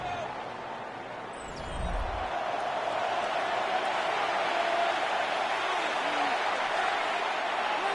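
Stadium crowd noise in a Madden 26 football video game, a steady broad roar swelling slightly after a low thump, sustained and fairly distant.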